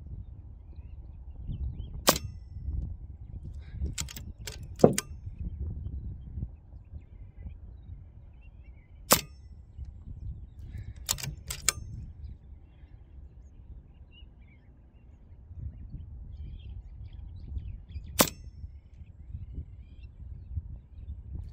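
Extreme Airguns Black Widow prototype airgun firing slugs at a 100 meter target, sharp isolated cracks and snaps spaced irregularly, some in quick pairs, over a low background rumble.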